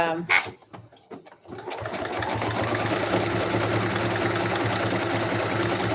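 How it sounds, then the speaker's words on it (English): A Brother XR3340 sewing machine runs a zigzag stitch on layered fabric scraps, starting after a few handling clicks and then humming steadily and loudly with a fast mechanical rhythm to the end. "I'm not crazy about that stitch. It's a zigzag. I have a really cool machine. It's a Brother XR3340."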